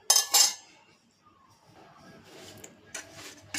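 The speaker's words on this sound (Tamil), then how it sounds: "இப்போ இதுக்கு ஒரு மூடியை போட்டு நம்ம வச்சுருவோம்." A metal lid is set onto a cooking pot holding millet batter, giving two sharp clanks at the start. Softer scraping and light clinks of kitchenware follow, and another faint clink comes near the end.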